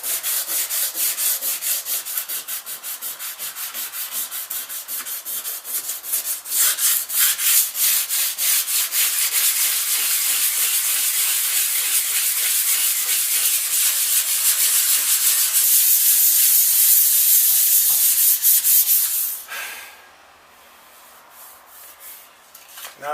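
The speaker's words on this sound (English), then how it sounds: "remember to tap off your sanding paper every now and again, otherwise it gets clogged up in dust" Hand sanding with sandpaper during a restoration: steady, close, loud rubbing strokes in a continuous rhythm for about twenty seconds, then dropping away to near quiet at the end.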